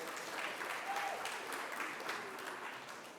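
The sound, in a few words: audience applause at an awards event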